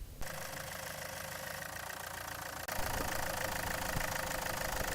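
A Land Rover Freelander 2 engine idles steadily during a power steering pump pressure test, a continuous mid-pitched hum with a brief dip partway through before it settles slightly louder and busier.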